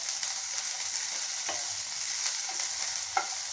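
Drumstick leaves (murungai keerai) being sautéed and stirred in a pan for poriyal, a continuous steady sizzle with a few soft scrapes of a spoon, close and without voices.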